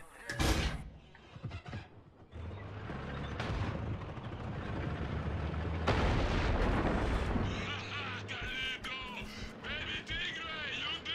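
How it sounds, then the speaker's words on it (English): Tank cannon in Far Cry 6 booms with a sharp blast, followed by rumbling engine noise, another heavy impact and scattered clanks, while people talk over it. "I love this tank."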